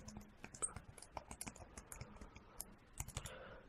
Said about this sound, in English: I'm actually gonna show you how I can type on it.